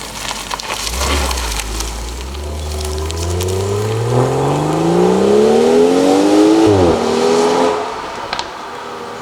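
A 2019 BMW X3 M40i with the B58 inline-six accelerating hard, engine note climbing steadily through the revs, a brief dip at a gear change, then rising again and ending with a crackle from the exhaust.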